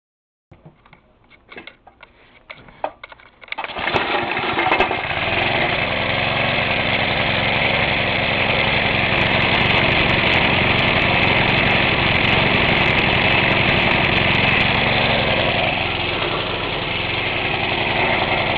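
A homemade generator driven by a 3 horsepower Briggs and Stratton engine starts after some faint handling noises, then runs at a steady, loud, close drone for the rest of the clip without talk.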